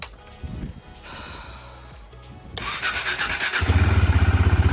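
A KTM Duke motorcycle, revived after a battery charge, cranks and fires up: scraping starter noise gives way to a loud engine catching and settling into a steady, pulsing idle close by.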